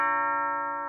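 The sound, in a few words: doorbell ringing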